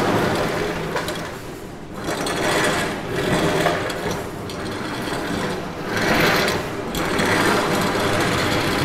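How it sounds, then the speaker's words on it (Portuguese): A zinc sheet is scored by hand to mark a fold for a custom gutter, producing a continuous close scraping and rasping that swells and fades in uneven strokes. "Eu vou começar com ela aqui, ó, praticamente só riscando o zinco, para fazer uma pequena marcaçãozinha."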